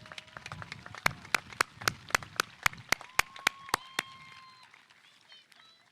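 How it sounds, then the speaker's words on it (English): Sharp, evenly spaced claps ring out one by one at a steady rhythm for a few seconds and then stop. The clapping is for a choir at a 2021 high school graduation ceremony. "Let's give another big round of applause to our wonderful choir for their excellent performance."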